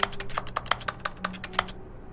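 Rapid clicking of a computer keyboard in The Stanley Parable, a brisk run of a dozen or so crisp keystrokes at close range that stops abruptly, with no voices over it.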